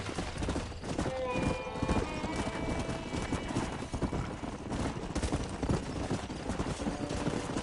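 Horse hooves clip-clop steadily in Red Dead Redemption, with a whinny from a stallion, all set against busy background game sound and some talk.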